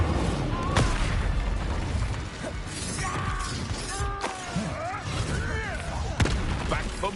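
An Incendio fire spell is cast during a Hogwarts Legacy battle, a bright whoosh and crackle among other spell blasts, mechanical clanks and sharp impacts, with game voices shouting over the dense combat mix.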